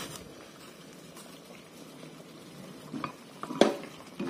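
Water boils in a pot for blanching mustard greens, a soft continuous bubbling with a few light clinks of a utensil against the pot near the end.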